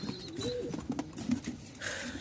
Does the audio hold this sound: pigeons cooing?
yes